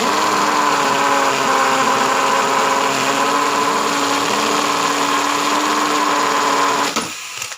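A power drill bores steadily, giving a continuous loud, even mechanical whine that holds for several seconds and then cuts off abruptly near the end.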